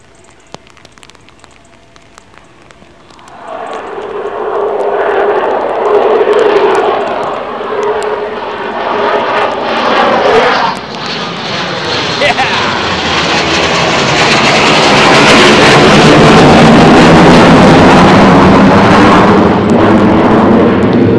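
A Eurofighter Typhoon two-seater trainer jet departs RAF Coningsby, its engine roar rising abruptly after a quiet start and swelling into a loud, sustained, rushing blast with a hissing edge that carries to the end.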